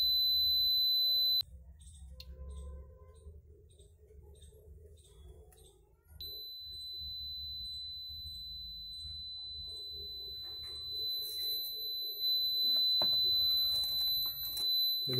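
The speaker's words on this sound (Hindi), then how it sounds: "हमारी 3 LED ब्लिंक कर रही है और हमारा बजर" A satellite finder's buzzer sounds as repeated high-pitched beeps in a steady pulsing rhythm, then switches to a continuous tone, fairly faint and close, with someone talking over parts of it.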